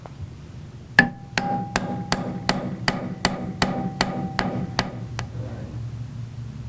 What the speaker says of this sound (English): Lay a piece of annealed wire in the groove and strike it with a planishing hammer.